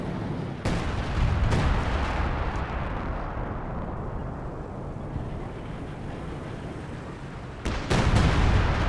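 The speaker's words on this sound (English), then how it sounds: "And more base artillery there." Base artillery fire in the strategy game Company of Heroes 2, deep rumbling explosions rolling on continuously with sharper blasts at the start and near the end, loud and dense with no talk.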